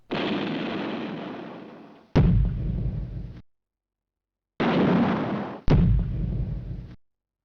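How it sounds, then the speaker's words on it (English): Two pairs of heavy gunshots in a PC video game, each a long booming blast followed by a second sharp crack and fading rumble, separated by a clean silent gap; loud and close, with no talking. "this was just them shooting at me after my turn"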